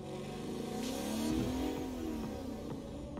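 A car engine in Agents of Mayhem revs up in a smooth rising and falling drone at moderate distance, running continuously with no talking.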